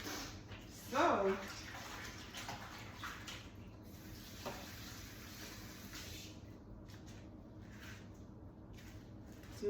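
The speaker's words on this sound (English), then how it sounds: "I had to rinse this knife off." Tap water runs steadily while a kitchen knife is rinsed, with a brief louder splash near the start before the flow fades to a softer trickle, all alone without talk.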